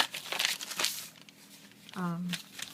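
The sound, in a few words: scrap piece of paper being handled, crinkling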